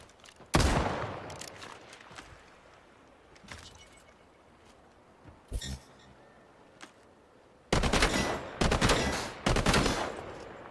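Scoped rifle gunfire in a shooting video game cracks out in sharp, loud single shots, first with gaps between them and then a tighter cluster of bursts near the end, with faint voices in the background.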